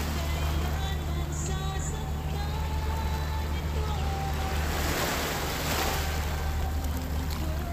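Waves wash against the rocky shore of Mawan Beach on an overcast, misty day, a steady loud roar of surf mixed with wind buffeting the microphone, with no voices.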